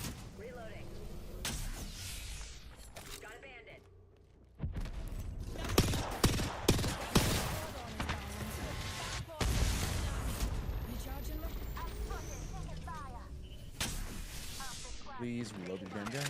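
Rapid gunfire from the Apex Legends video game: bursts of loud close shots and automatic volleys, broken by a brief lull, with game sounds and voice lines running throughout.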